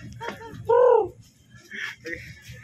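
Pigeons in a pigeon cage give a short, loud, close coo, with people talking before and after it.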